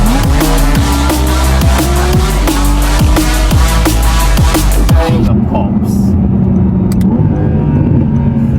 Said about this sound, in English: those brakes are good